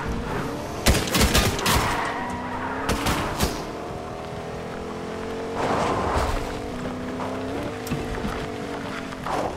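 Gunfire in the Fortnite video game comes as sharp bursts of rapid shots in a few clusters, loud against a steady engine-like drone running underneath.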